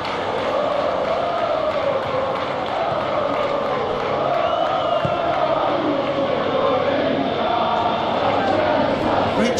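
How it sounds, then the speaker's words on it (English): Stadium crowd noise from a Serie A Roma versus Lazio derby football video game, a loud, continuous roar of cheering fans that stays steady throughout, with no break. "Crowd appreciates good football all around there."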